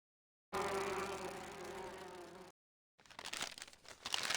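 Buzzing from a shaken beehive in the game Grim Fandango: a dense, loud swarm drone for about two seconds, then after a short silence a rougher, crackling burst of buzzing.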